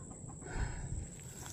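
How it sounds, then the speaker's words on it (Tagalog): Hungry chickens cluck softly and briefly at low volume, with a steady background hiss and no voices. "ang mga manok. Oh, kawawa naman."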